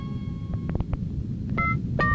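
Telephone keypad being dialed: a few short electronic beeps spaced irregularly, then a couple of longer dual-tone beeps over a low hum, with no speech.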